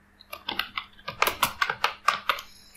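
Typing on a computer keyboard: about a dozen crisp, close key clicks in a quick, slightly uneven burst, with brief pauses and a faint low hum underneath.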